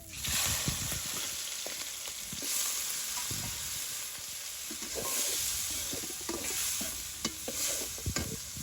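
Chaiya fish frying in hot oil in a village kitchen, a continuous loud sizzle with crackles, intermittent stirring scrapes and clatters throughout.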